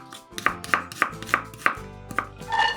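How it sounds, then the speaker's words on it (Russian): An onion is diced with a knife on a cutting board in a home kitchen: a quick run of crisp, close chops in a steady rhythm, then a brief pause and a couple of softer cuts, with no voices. "1 луковицу нарезаем кубиками."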